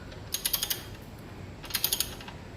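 A ratchet tightens the oil drain bolt on a Honda Activa scooter: two short bursts of quick, crisp clicking, each about five clicks, close by against a faint background hum.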